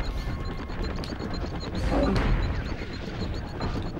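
Rocket fire from an enemy in the video game Spyro 3: Year of the Dragon, a continuous rumbling barrage of blasts and crashes with a louder burst midway, under busy game sound.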